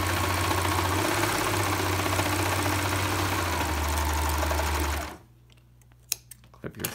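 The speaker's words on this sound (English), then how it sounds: "now I'm going to serge just following this edge" A serger stitches along the fabric edge of a scrub cap, a loud fast steady motor whir lasting about five seconds before stopping abruptly, followed by a few small handling clicks in near silence.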